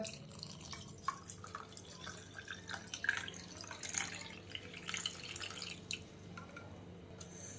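Water trickles and splashes faintly into a glass of lemon soda, a quiet, irregular pouring sound with small drip-like patters throughout.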